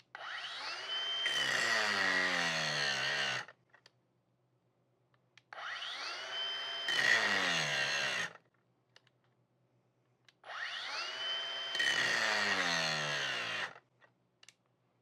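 A Ryobi brushless angle grinder runs under load in three bursts of about three seconds each, a loud high-pitched whine that drops in pitch as it cuts, with short quiet gaps between bursts.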